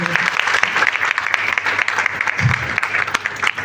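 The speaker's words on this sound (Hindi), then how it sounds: "और मैं चाहूँगा एक बार दोबारा गुरुदेव के लिए जोरदार ताली।" Loud applause for the guru at a training session in a Prayagraj hotel, a dense sustained clatter of many hands, close and energetic, with faint voices briefly rising beneath it.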